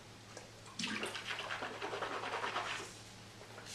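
Water sloshed around in the mouth and swished after a tasting of flavored drops, a close, wet gurgling and swirling that swells for about two seconds and then fades, with no talking.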